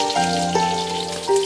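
Scallion, ginger and garlic hit hot oil in a wok, giving a steady close sizzle with a few brief crackles and pops throughout, no voices.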